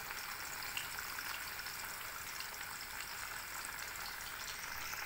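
Sweet potatoes deep frying in hot oil give a steady, even hiss and fine crackle that runs unbroken throughout, with no voices.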